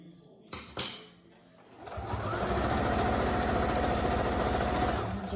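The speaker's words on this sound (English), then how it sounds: "I'm just going to sew that corner," A sewing machine stitches the corner of a child's fabric face mask, starting after a couple of faint clicks and handling noises, then running in a steady, close, fast mechanical whir for several seconds with no talking.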